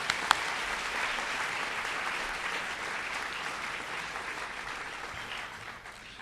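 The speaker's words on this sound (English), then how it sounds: "I request everyone, please give them a big round of applause." Graduation audience applauding the staff at the KIS class of 2018 ceremony, a steady broad wash of many hands clapping that holds evenly throughout and tapers slightly at the end.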